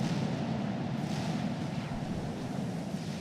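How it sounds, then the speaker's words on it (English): Nuclear explosion from the Nomads faction in the strategy game Supreme Commander: a sustained, rumbling low roar that holds steady and loud for several seconds without a sharp attack, with no voices. "They have a very interesting nuke explosion."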